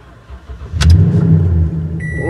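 A Toyota eight-cylinder car engine starts up close by, a short starter whine followed by a deep, loud rumble that settles into a steady idle.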